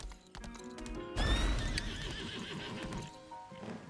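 A horse in the video game Lost Ark gives a loud whinny over rhythmic hoof clip-clops, close up, with game music underneath.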